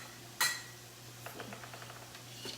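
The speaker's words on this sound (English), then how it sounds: "move all my bowls out of the way" Bowls are pushed aside on a kitchen counter: one sharp ceramic clink, then a run of faint, light taps and scrapes close by in an otherwise quiet room with no talking.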